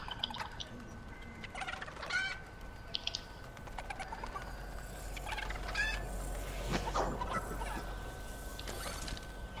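A chicken in the Fortnite video game makes short clucking, gobbling calls in scattered bursts over a steady game-ambience background, with no talk.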